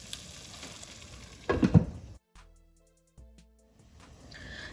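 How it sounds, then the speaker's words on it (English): Potatoes cook with masala in a pan over a low flame, giving a soft sizzle. A louder burst of frying or stirring rises briefly midway, then the sound drops to near silence before a faint sizzle returns. "let these potatoes also cook for about 5 minutes with the masala. Again, let it cook on low flame."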